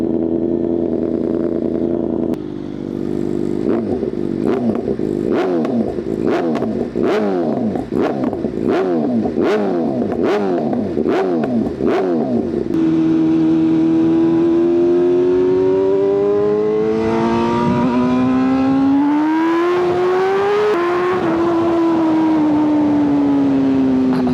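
A BMW M1000RR fitted with a loud aftermarket exhaust blips its throttle in a quick series of sharp revs, then pulls away with a strong, rising engine note that climbs through the gears, close and very loud.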